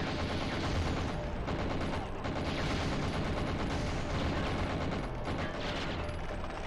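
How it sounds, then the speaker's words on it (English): Gunfire in the PS1 game 007: The World is Not Enough runs as a continuous, dense, crackling barrage at steady loudness, with no clear gaps between shots. "Someone's shooting."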